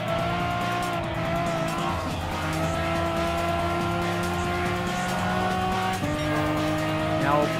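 Race cars lap a track in the video game Gran Turismo Sport, their engines giving a continuous loud whine that rises and drops with gear changes, and tires squeal now and then.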